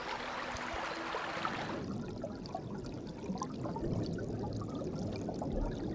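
A small forest stream flows steadily over rocks, a continuous close rushing and trickling of water that softens slightly partway through, with no voices.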